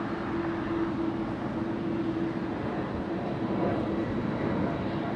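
An Emirates airliner lands at LAX after a 15-hour flight, producing a continuous loud broadband roar with a steady low engine hum throughout.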